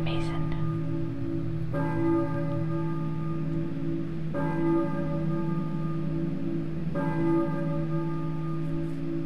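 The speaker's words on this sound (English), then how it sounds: "I hear a church bell, maybe?" A church bell tolls outside in the Silent Hill video game, with three slow, evenly spaced strikes whose long ringing tones hang over a constant low background drone.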